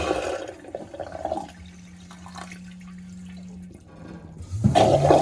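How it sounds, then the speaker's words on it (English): A Jabsco marine toilet aboard a boat flushes: a rush of water pouring in, then a steady pump hum as it drains, followed by a second, louder surge of flushing water at the end, close and with no talk. "We hit flush, water comes pouring in, it leaves, and then another little flush comes."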